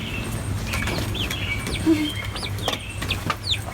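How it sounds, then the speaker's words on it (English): Chickens clucking and murmuring with some wing flapping, low steady hum of the surroundings beneath, no one speaking. "we got chickens"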